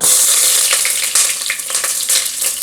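Onions are dropped into hot oil in a pot for seafood fried rice and burst into a loud, close, continuous sizzle that crackles throughout, with no talking.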